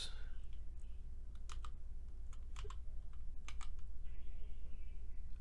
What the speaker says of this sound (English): I typed the K because that's where the I goes.